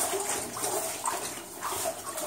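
Steady running water rushes and splashes inside an abandoned mine, a continuous hissing flow heard close and moderately loud with no talk.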